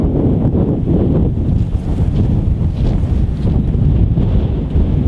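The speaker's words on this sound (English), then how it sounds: "it's been a very windy, blustery day" Strong wind roars and buffets the microphone in constant low gusts, loud and unbroken throughout.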